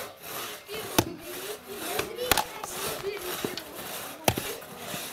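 A hand saw cuts through maple wood outdoors, giving a steady rasping stroke with a few sharp cracks and snaps, while people talk in the background.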